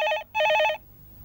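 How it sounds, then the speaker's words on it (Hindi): An old landline telephone rings in two close electronic bursts, loud and clear, followed by a quiet room. "अब किसका फोन आया?"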